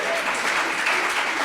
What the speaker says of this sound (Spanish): Dele un aplauso al Señor porque Él es bueno.